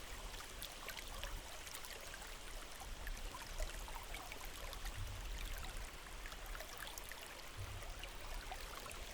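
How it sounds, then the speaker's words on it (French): A clear, pure stream of water flowing steadily and continuously, a dense, even trickle and babble with no voices or breaks throughout. "Concentrez toute votre attention sur les sons de l'eau, pure, simple, envoûtant."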